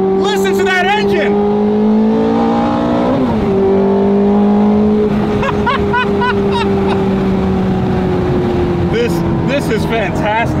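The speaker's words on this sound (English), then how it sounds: "Listen to that engine." A Ferrari F430 fitted with an S-line exhaust, heard from the cabin with the windows down, revs loud and close, holding a strong droning engine note that dips at a shift and climbs again, with a voice speaking over it.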